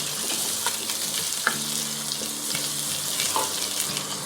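Whole garam masala spices sizzle steadily in hot oil for a goat trotter paya, with a continuous close frying hiss and occasional light clinks of stirring.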